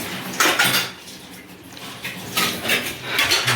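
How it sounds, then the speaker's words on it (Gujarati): Dishes, pots and pans clatter and clink as they are washed by hand, with several loud bursts of metal knocks and scrapes spread irregularly across the stretch and no voices. "ચાલો બધાય વાસણ કરવા"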